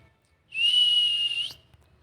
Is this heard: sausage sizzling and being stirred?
no